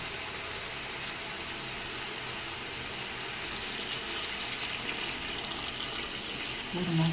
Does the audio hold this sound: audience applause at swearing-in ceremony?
no